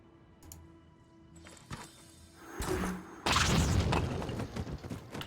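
Grenade explosions in the tactical strategy game Phoenix Point, quiet mechanical ticks and a whoosh building into two heavy bursts, the second loud and sustained with debris rumble, no speech.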